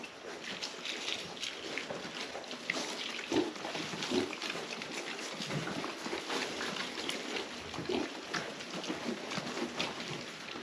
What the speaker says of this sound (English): Pigs really like hard-boiled eggs. That's how I lured them in here.